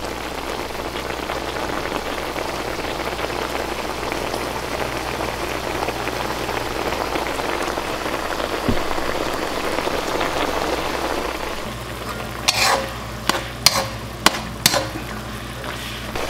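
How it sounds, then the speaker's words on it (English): Beef for keto Mongolian beef sizzles steadily in a pan with a dense, even crackle that holds close and constant, followed near the end by a few sharp clinks, with no talk. "Beef's cooking up."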